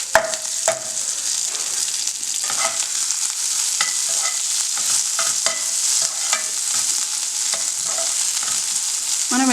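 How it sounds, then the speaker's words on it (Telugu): Chopped fenugreek leaves frying with spices in a pan, a continuous close sizzle with repeated stirring scrapes and ladle taps throughout. "నేను నెక్స్ట్ ఇందులో 1/2 కప్పు కట్ చేసిన మెంతికూర అనేది వేసుకుంటున్నాను"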